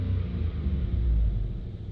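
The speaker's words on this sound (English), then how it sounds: "we're going to rev it, and you'll hear the cold air intake with the exhaust closed quite a bit" A Ford F-150 with a 5.0L V8, cold air intake and electric exhaust cutout closed on the factory exhaust runs with a deep, steady, close engine rumble and no talking.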